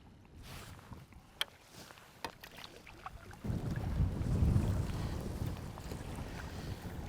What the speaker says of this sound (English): the wind is a lot stronger than it forecast, to be honest.